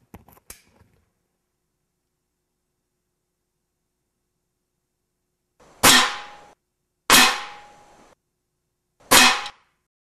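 An Air Venturi Bronco air rifle fires Gamo Match pellets, three sharp cracks a second or so apart, each with a short metallic ring, loud and close, after a faint mechanical click early on.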